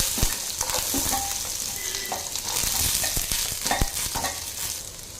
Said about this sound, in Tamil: பட்டர் வந்து நல்லா உருகிடுச்சுங்க ஒரு கேரட் வந்து கட் பண்ணி வச்சுருக்கேன் சேர்த்துக்கலாம்